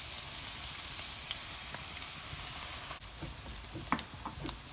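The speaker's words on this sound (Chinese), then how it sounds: "现在把油烧到大概50度左右，把火调到小火，我们放一半的蒜末下去" Minced garlic sizzling gently in a generous layer of oil over low heat, a steady soft hiss with scattered small pops and crackles, close and fairly quiet.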